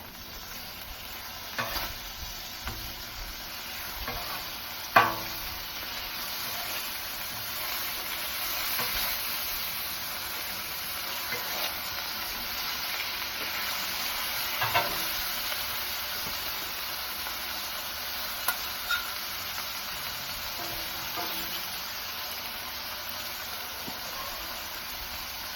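Sausage with sage and onion frying on a Blackstone flat-top griddle, a steady broad sizzle and hiss throughout with occasional scraping and stirring taps from a spatula, no voices.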